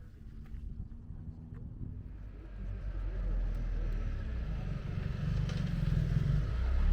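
Car driving on a mountain road in the French Alps, a low steady engine rumble with road and wind noise that grows louder toward the end, no speech over it.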